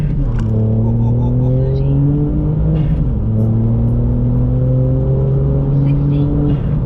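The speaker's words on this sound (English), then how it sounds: "Give it some revs, couple thousand." A VW Up GTI's 155 bhp engine revs steadily, its rising and falling harmonic drone loud and close, held over a couple of seconds at a time.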